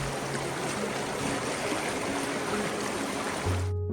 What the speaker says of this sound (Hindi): इस बहते पानी की आवाज को